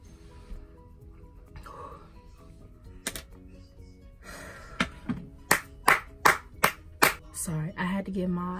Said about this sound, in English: I had to give myself a clap